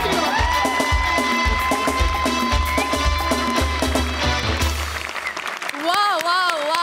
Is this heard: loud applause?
yes